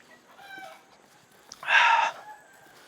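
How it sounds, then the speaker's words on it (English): Hen and baby chicks outdoors on the trail to Batad in the Philippines, giving soft chick peeps early on and then a loud, close burst of hen clucking and squawking lasting about half a second. "Got some baby chicks with the mom there."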